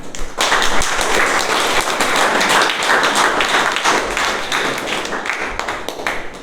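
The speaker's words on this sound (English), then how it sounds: "So please welcome with a thunderous applause Toastmaster Veena." A room full of people at a Toastmasters meeting clapping loudly and continuously, dense applause sustained throughout.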